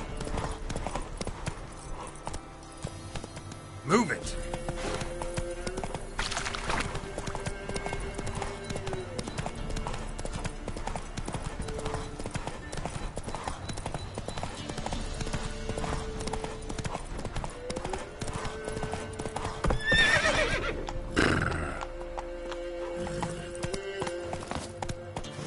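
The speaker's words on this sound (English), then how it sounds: "Horses racing." Rapid clip-clop of several horses galloping in a race in the video game Witcher 3, steady and close, with a brief shouted voice and a whinny near the middle.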